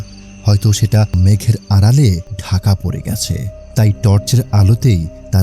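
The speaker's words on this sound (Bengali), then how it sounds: "চারদিকে ঝিঝি পোকার ডাক ছাড়া আর কোনো কিছুরই শব্দ পাওয়া যাচ্ছে না" Crickets chirp steadily in the night background of an animated Bengali horror story, faint and mostly buried under continuous narration by a speaking voice.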